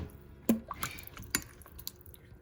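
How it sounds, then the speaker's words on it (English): Coconut milk pours into soup broth and is stirred in, giving a few soft liquid drips and splashes, the loudest near the start and fading to light squishy stirring, close by with no talking. "we're gonna add our coconut milk that I completely forgot about. And we're going to stir it up"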